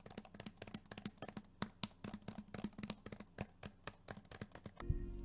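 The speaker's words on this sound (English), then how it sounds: "this kind of rattling frequency that you hear when you're typing" Steady typing on a Jelly Comb membrane keyboard with a rattling resonance, a quick run of soft clacking keystrokes heard close and alone, ending in a brief thump.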